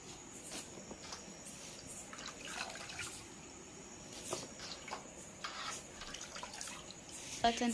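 Water splashes and drips faintly as mangoes are washed in a tub during home preparation of dried mangoes, with soft intermittent sloshing and a few clinks.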